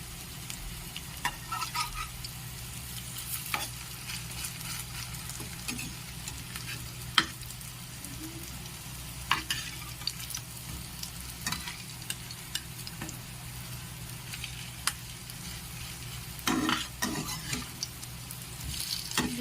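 Poppy seed fritters sizzle in hot oil, a continuous soft frying hiss with occasional clicks and light taps of a utensil against the pan, no talking.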